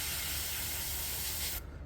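Spray paint hisses steadily from a can or airbrush onto a fishing lure, a close, continuous burst that cuts off abruptly near the end.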